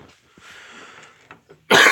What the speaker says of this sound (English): Alright, coughs are coming back too.